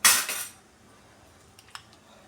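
A spoon clatters against a metal pot while payasam is mixed, a bright rattling scrape at the start followed by a second scrape, then quiet with a couple of faint light clinks.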